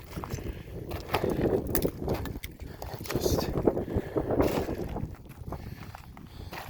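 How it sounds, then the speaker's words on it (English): Gusty wind on a steep mountainside buffets the microphone with a continuous low roar, rising and falling throughout, with a few faint footsteps mixed in. "It's windy"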